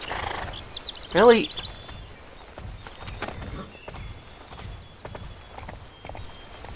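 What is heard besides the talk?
horse neighing and hooves in Barbie Horse Adventures video game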